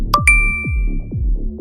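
A phone notification rings out with two quick bright dings, loud and close, then their tones fade away over a low background hum.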